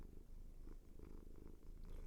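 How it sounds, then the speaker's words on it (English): Elmo the cat purrs close to the microphone, a steady low rumbling drone with a soft pulsing rhythm that continues throughout. "can you guys hear Elmo purr?"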